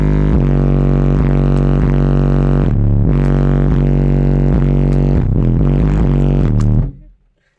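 Heavy, booming bass pulses from twin 12-inch JL Audio car subwoofers, thick low notes throbbing in a rhythmic pattern before stopping suddenly.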